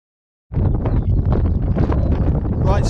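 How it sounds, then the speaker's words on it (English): Cold wind gusts on the ridge of Hatterrall Hill along the Offa's Dyke path, bursting in suddenly after a silent start, then buffeting the microphone with loud, rumbling, continuous roaring. "It's very cold and windy."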